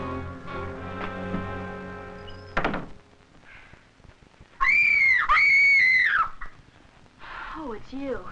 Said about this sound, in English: You screamed and made lots of noise.